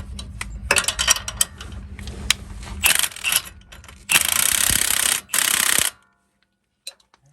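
A hand ratchet tightens the shock bolt on a Jeep Wrangler during a brake line anchor install, with rapid clicking bursts and metallic taps in several close runs, then a pause and a final faint click.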